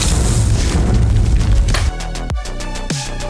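A bomb explosion in a scene from Mission: Impossible – The Final Reckoning produces a loud, heavy rumbling boom that roars for almost two seconds, then cuts abruptly to quieter ringing tones.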